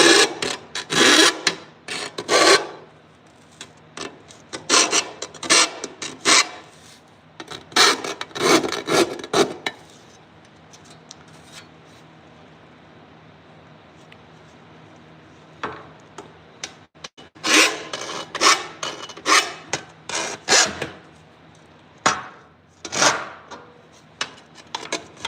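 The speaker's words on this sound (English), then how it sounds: "or a rat tail file" A rat tail file rasping on metal while fitting a custom gauge cluster for a 1961 P100 box truck, close rhythmic strokes in bursts separated by quiet pauses.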